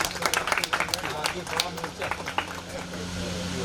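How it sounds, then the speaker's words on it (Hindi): Audience clapping to welcome a guest at an outdoor Independence Day celebration in an apartment complex in Prayagraj, a scattered burst of hand claps in the first seconds, fading into low crowd noise. "तालियां बजा के स्वागत किया जाए।"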